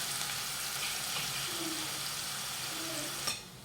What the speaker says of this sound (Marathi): तर आता हे वाटण साधारण तीन ते चार मिनटं मंद आचेवर परतून घेऊयात